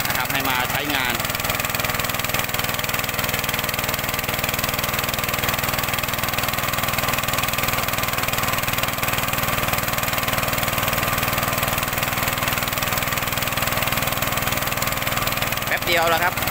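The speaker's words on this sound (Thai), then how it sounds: "เครื่องสูบน้ำนี่มาจากทีมงานเสียทวินครับ" A water pump engine runs steadily while pumping water into a rice field, a constant, loud mechanical drone with no break from start to finish.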